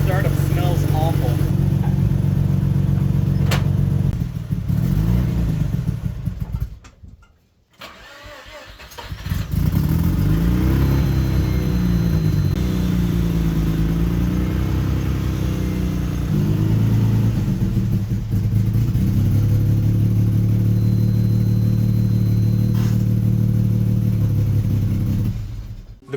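A JDM Mazda RX-7 rotary engine on its first startup: it idles roughly, dies after a few seconds, then catches again and rises into loud, buzzing revs before settling to a steady idle.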